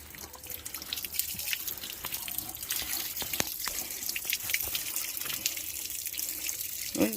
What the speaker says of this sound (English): that thing still got water coming out of it.